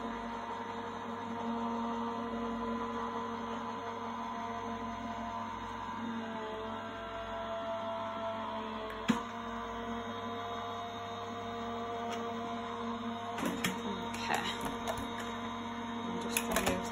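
A manual cardmaking die-cutting machine rolls card stock through its plates, a low steady grinding hum with occasional clicks and a sharp snap near the end, quiet and close.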